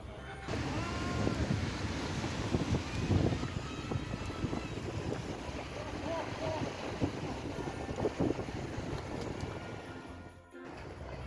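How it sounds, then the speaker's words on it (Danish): A boat out on the water at Christmas, with a steady broadband rush of wind and waves rolling over the microphone and voices talking faintly throughout. "Vi sejler nu rundt i en time"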